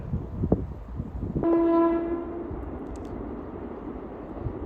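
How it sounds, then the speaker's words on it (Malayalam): A passing train at Vazhalikkavu sounds one drawn-out horn blast at moderate distance, heard over a low rail rumble that carries on after the horn fades. "ഒരൊച്ച കേൾക്കുന്നുണ്ടോ ആ ട്രെയിനിൻ്റെ ഒച്ചയാണ്"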